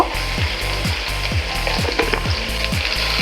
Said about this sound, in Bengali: আমি কিছুক্ষণ তেলের সঙ্গে আলুটাকে ভেজে নেব